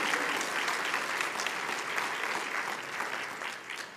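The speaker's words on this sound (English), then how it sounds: "let's give them a big round of applause, too" Steady applause from a church congregation fills the whole moment, dense and even throughout, easing slightly toward the end.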